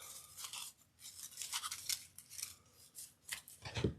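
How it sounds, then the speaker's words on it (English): Scissors snipping geranium leaves while building a wreath, a close, quiet run of crisp cutting strokes and rustling foliage, with irregular snips and a slightly louder cut at the end, no speech. "I'm just going to snip one of these off"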